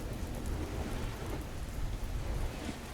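Rain taps steadily on a train compartment window, a dense, even patter with a low rumble underneath, close and continuous with no voices.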